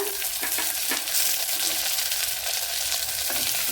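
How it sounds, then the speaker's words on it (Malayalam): Shallots, garlic and tomato frying in a pan for a tomato curry, a steady close sizzle with occasional soft clicks of stirring, no voices. "കൊച്ചുള്ളിയും വെളുത്തുള്ളിയും എല്ലാം നല്ലപോലെ മൂപ്പിച്ചെടുക്കണം"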